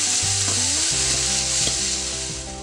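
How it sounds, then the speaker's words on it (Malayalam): Masala sautés in oil in a pan for Kerala-style meen pollichathu, making a loud, constant sizzle over a low steady hum with occasional soft ticks. No one speaks. "ഇതിട്ട് നന്നായിട്ടാണ് എണ്ണ തെളിയുന്നവരെ വഴറ്റണം"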